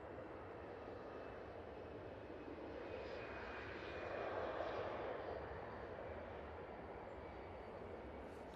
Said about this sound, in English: There's an EasyJet going off on the other runway